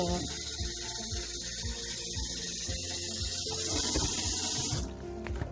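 Cold water runs steadily from a kitchen tap in a Swedish home, a continuous close hiss with rattling plumbing undertones, then a louder, brighter rush near the end as the flow opens up.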